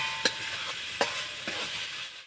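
Spices and vegetables sautéing in oil for a lentil dish, a steady frying sizzle with three sharp spoon scrapes against the pan, close and without voices, cutting off abruptly.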